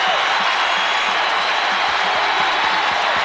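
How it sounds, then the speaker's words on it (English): A home crowd in a college basketball arena roars during an Indiana at Purdue game in 1989, a loud, steady wall of cheering that fills the space without letup. "This crowd is getting behind them."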